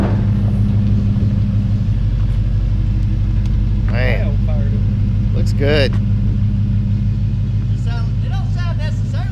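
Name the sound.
Ford Fox Body notchback car engine idling and revving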